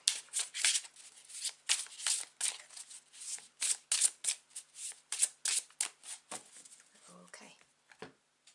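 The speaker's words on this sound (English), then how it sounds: "concentrate or focus whilst I shuffle my cards" A tarot card deck is shuffled in close, crisp bursts, a rapid series of riffling, flicking strokes that come in uneven clusters and trail off near the end.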